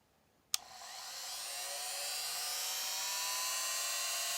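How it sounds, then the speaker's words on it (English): A WEN 2307 rotary tool switches on with a sharp click and spins up on low speed to a steady high-pitched whine, holding a constant drone close by while drilling. "I'm going to put it on low, see what happens."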